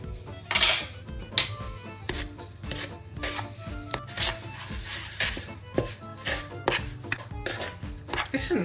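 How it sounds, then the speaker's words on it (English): Butter and sugar are creamed in a bowl for cookies, with quick, irregular clacks and scrapes of a utensil against the bowl, fairly close and without talk. "it says to cream the butter and the sugar until light and fluffy"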